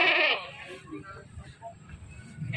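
Goats bleat at the Krakal livestock market in Kebumen, Central Java. One loud, close bleat opens the moment and another begins at the end, with people talking in the busy market between them.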